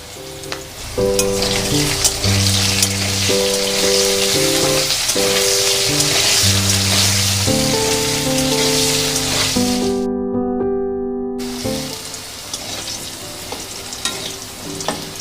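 Potatoes frying in hot oil, a loud continuous sizzle and crackle with repeated stirring strokes, and a steady background music bed running throughout.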